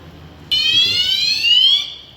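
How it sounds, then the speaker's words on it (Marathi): A driver anti-sleep alarm buzzer sounds when the eyes close, a sudden loud, shrill continuous electronic tone that starts abruptly and holds steady for over a second before fading, alone over faint background noise. "तर हा बझर मला अलर्ट करण्यासाठी वाजत आहे."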